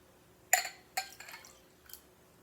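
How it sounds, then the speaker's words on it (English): Liquid poured from a measuring cup into a glass gives a few quiet splashing bursts, two sharp ones close together then a softer trailing one, heard up close with no talking. "I'm going to pour it in my glass."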